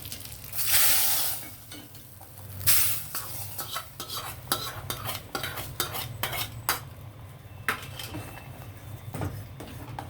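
A spoon scrapes and stirs in a pot as a sizzling hot-oil tempering is stirred into cooked lentils with amaranth greens, with clinks of metal and a steady background hiss.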